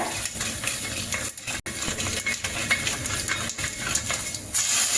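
Urad dal and chana dal frying in hot oil give a continuous close sizzle and hiss, broken by light crackles, pops and the scrape of a stirring spoon against the pan.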